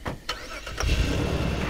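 A car engine in the video game Far Cry 2 turns over after a couple of short clicks, then settles into a loud, steady idling rumble.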